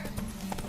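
Horse hooves clip-clop in a game scene, a few quick hollow knocks heard close under a voice and other game sounds in a very brief moment.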